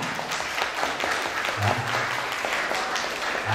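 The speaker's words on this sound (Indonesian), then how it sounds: "Tepuk tangan." Audience applause at a lecture on work culture in Surabaya, a brief burst of clapping from a seated crowd, moderately loud and fairly even, with a few voices mixed in underneath.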